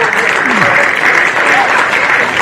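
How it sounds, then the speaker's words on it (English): Steady loud applause from a crowd at a girls' under-18 football grand final, continuous clapping with voices mixed in. "Big round of applause."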